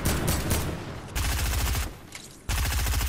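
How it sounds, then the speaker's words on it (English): Rapid automatic gunfire from a Fortnite match rattles in dense bursts, loud and close, broken by a brief lull before another volley. "Did you shoot my wall?"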